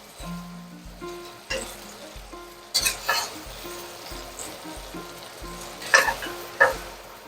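Cod fillets fry in brown butter in a pan with a steady, quiet sizzle, punctuated by several louder bursts of spattering and stirring.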